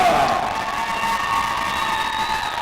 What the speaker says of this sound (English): There's a lot of noise out here in the crowd.